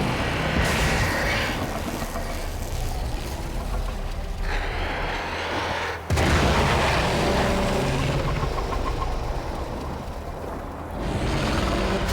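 A Warframe video game explosion, a dense full-range roar that surges, drops briefly near the middle, then bursts back just as strongly and rumbles on steadily.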